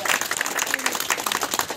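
Dense, loud applause from a crowd at a political party event fills the moment as Sunaina Chautala is welcomed, a continuous close clatter of many hands.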